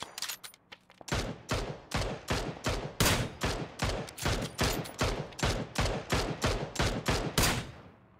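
A video game rifle fires about twenty loud, evenly spaced shots at a pilot in a glider, each crack ringing out sharply over roughly seven seconds with no voices.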